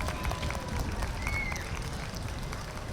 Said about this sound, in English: Let's all give our volunteers a round of applause.